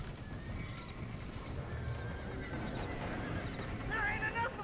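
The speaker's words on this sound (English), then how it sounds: "Somebody get them horses out." Horses whinny and neigh inside a burning barn in the video game Red Dead Redemption, shrill neighs rising near the end over a rumbling, crackling fire and hoof clatter, with people talking throughout.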